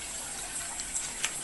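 Pond water drains steadily down an outdoor drain during a fall cleanup, a soft, continuous rushing hiss with a few faint splashes, moderately quiet and with no talking.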